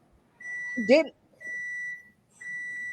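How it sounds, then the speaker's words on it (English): A microwave oven beeps three times in steady, evenly spaced electronic tones, with a person's voice briefly speaking over the first beep. "It's the microwave."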